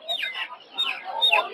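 Roosters and hens at a village poultry market in Narsingdi, several short clucks and squawks in quick bursts, fairly close but not loud, with a little background chatter.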